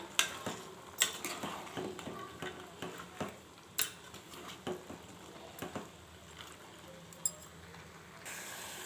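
Eggplant and black-eyed pea curry stirred in a pan of oil, with repeated scraping knocks of a spoon against the pan in an uneven rhythm over a faint, low sizzle.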